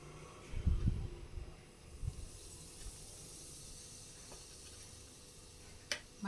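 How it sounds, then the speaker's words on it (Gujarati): Asafoetida (hing) hitting hot oil for tempering a stuffed okra dish, giving a steady, fairly quiet sizzling hiss after a few low clunks at the start, with a faint tap near the end. "તો હવે આપણું ઓઇલ ગરમ થઈ ગયું છે, તો એમાં હિંગનો વઘાર કરીશું આપણે।"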